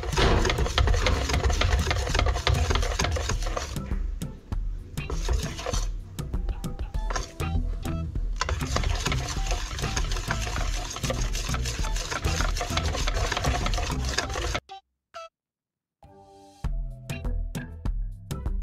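Banana pancake batter being stirred steadily in a bowl, a continuous whirring, churning mix that runs loud for a long stretch, dips briefly, then stops near the end before resuming.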